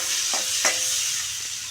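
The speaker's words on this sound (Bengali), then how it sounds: "এটা পপকর্ন ভাজা না, এটা ভুট্টা ভাজা" Corn kernels fry in hot oil on a gas cylinder stove, giving a steady close hiss with a few short crackling bursts scattered through it.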